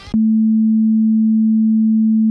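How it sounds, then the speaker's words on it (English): After a brief clipped bit of sound, a loud pure sine wave tone starts and sustains at a single steady pitch, smooth and constant until it ends. "Increasing the amplitude of a given wave makes it louder."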